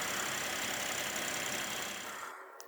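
An Ineos Grenadier's BMW inline-six petrol engine idles with a steady, rough, diesel-like drone that fills the clip, then cuts off abruptly near the end.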